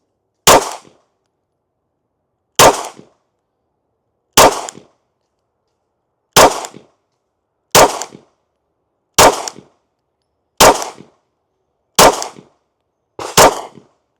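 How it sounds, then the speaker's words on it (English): A CZ P10C ported pistol fires nine sharp shots at a slow, even pace, each crack loud and close and followed by brief silence, with no voices. "Let's get these first shots down range. Let's see how this CZ P10C performs"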